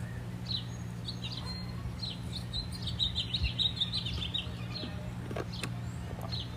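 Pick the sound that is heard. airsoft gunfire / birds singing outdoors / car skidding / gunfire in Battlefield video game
birds singing outdoors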